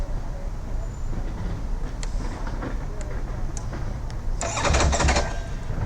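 A Ducati Panigale V4 motorcycle engine cranks and fires, a loud, brief roaring burst near the end after a low rumbling background, with voices talking nearby.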